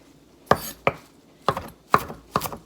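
Knife chopping fresh cilantro on a cutting board, five separate sharp chops at uneven intervals, close and distinct against a quiet background.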